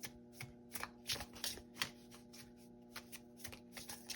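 A tarot card deck is shuffled by hand in quick riffling bursts, crisp close flutters separated by brief pauses, with no talking.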